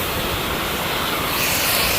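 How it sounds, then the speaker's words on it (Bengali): Water sprays hard beneath a car at a self-service car wash in Korea, a steady, close, broadband rush of spray that continues for the whole stretch with no talk. "গাড়ির নিচ পরিষ্কার হইতেছে"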